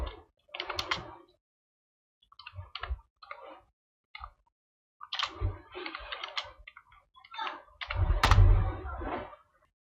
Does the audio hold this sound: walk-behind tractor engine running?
no